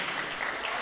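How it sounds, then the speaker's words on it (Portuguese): Church congregation applauding, a dense steady wash of clapping filling the short moment with no voices standing out. "Pode aplaudir aqui, né?"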